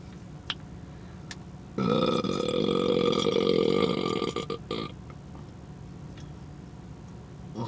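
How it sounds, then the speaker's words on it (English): A person lets out one long, loud, rumbling burp up close that lasts about three seconds and then tapers off with a few choppy bursts, set against quiet room noise. "Y'all want to have a burping contest?"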